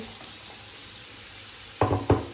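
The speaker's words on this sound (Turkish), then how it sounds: "Önce patateslerimi tavaya alacağım." Potatoes go into a pan on the stove, a soft background frying hiss followed by two clattering knocks near the end, close by.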